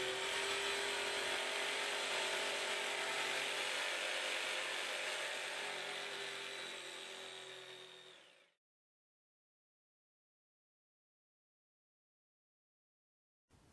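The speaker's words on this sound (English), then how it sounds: "When cutting tight curves, reduce the speed of the saw." A GMC jigsaw cuts a workpiece with a steady, loud high-pitched buzzing whine that runs for about eight seconds, then winds down and stops, followed by silence.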